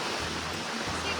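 Ocean waves wash steadily on a Florida beach at Port St Joe, a soft continuous surf hiss with light wind noise, faint and brief.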